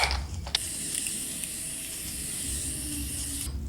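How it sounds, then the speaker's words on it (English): Setting spray misted onto a face: a steady, close hissing spray lasting about three seconds, preceded by a couple of light clicks from the nozzle, with no talking. "my face is sprayed"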